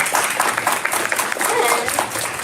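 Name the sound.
audience applause for teachers and staff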